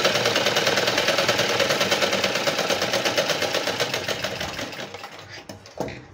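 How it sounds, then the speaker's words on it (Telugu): A sewing machine runs in a fast, steady chatter while stitching the folded hem of a blouse sleeve, the stitching slowing and fading out near the end with a brief clack. "ఇప్పుడు వచ్చేసి దీన్ని మనం ఇలా మలిపి అయితే కుట్టుకోవాలి."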